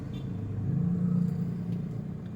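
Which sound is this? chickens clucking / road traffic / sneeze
road traffic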